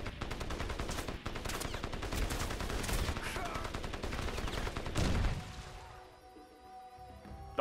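Dense automatic gunfire rattles nonstop in the first-person shooter Crysis, a loud close barrage with overlapping shots that cuts off abruptly near the end, leaving a quiet tail.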